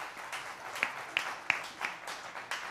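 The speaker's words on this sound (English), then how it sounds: "We always know Paulette's here when the clapping starts after the talk." Scattered clapping from a congregation at a Sunday church service, a handful of distinct hand claps in an uneven rhythm over a soft murmur, fairly quiet and somewhat distant.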